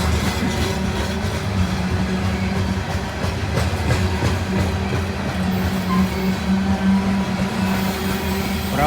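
Long freight train of nearly a hundred wagons rolling past, a steady loud rumble with rhythmic wheel clatter and metallic squeal that carries on unbroken from start to finish.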